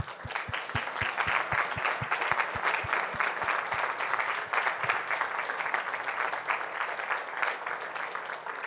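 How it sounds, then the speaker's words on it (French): An indoor audience applauds a space mission patch at an air show event in Paris, a sustained dense clapping that holds steady throughout, with a few distinct louder claps near the start. "on vient d'applaudir le patch de la mission Epsilon"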